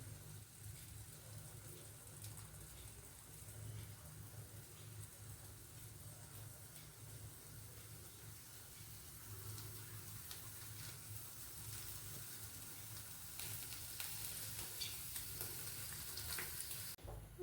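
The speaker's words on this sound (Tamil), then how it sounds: "இப்போ அதில் எண்ணெய் ஊற்றிக்கலாம்." Oil heating in a pan for cauliflower 65 sizzles and crackles steadily, a soft continuous hiss with a low hum beneath, growing slightly louder toward the end.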